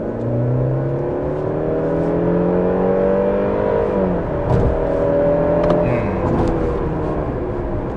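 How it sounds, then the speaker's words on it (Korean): A new Mercedes C-Class with a 2.0-litre gasoline engine and nine-speed automatic accelerates hard, its engine note climbing steadily, dropping briefly at a gearshift midway, then rising again, heard from inside the car with no talking. "급가속을 하면 폭발적으로 펀치 있게 나가는 그 느낌은 아니지만 그래도 속도가 꾸준하게 올라가는 그런 경향이 있어요."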